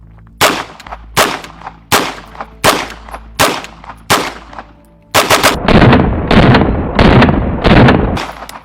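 APC-9K submachine gun fired outdoors: a string of sharp single shots with pauses, followed by a rapid burst of fire, very loud and close.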